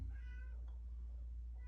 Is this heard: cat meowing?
yes